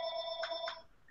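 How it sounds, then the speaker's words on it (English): A mobile phone rings with a faint, tonal electronic ringtone, two short bursts in quick succession in a quiet room, with no talk over it. "That could be my phone."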